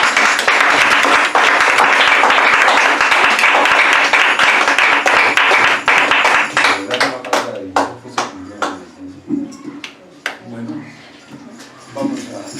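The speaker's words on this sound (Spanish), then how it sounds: "Vamos a darles un fuerte aplauso al Señor." A church congregation applauds at a Sunday service, dense sustained clapping that fades into scattered individual claps toward the end, with voices talking over it.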